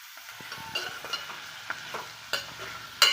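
Ivy gourd pieces and onions, with salt, fry in a pan, giving a steady close sizzle broken by the sharp clinks and scrapes of stirring.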